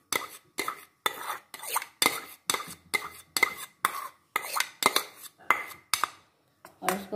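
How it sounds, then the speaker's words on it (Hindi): A spoon mixes Russian salad with cream in a bowl, giving a steady run of close, bright clinks and scrapes against the dish in quick rhythmic strokes, with a brief pause near the end. "और इसको हम अच्छे से मिक्स कर लेंगे"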